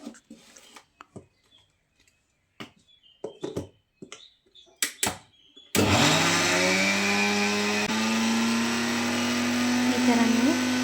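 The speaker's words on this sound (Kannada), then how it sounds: "ಈ ಥರ ನೀವು ಮಿಕ್ಸರ್ ಮಾಡ್ಕೊಳ್ಳಿ." A mixer grinder grinding peanut chutney starts abruptly partway through, running loud and steady to the end after a stretch of scattered knocks and handling noises.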